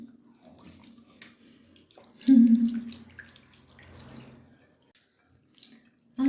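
Cold tap water runs steadily into a sink during face washing, with a louder gush partway through and splashing as hands move under the stream.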